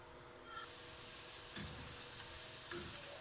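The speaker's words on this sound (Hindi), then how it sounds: "हमने आलू 3 से 4 आलू लिए हैं, इनको हम फ्राई कर लेंगे।" Potatoes frying in mustard oil in a pan, a steady close sizzle and hiss running throughout with a couple of faint ticks of a utensil.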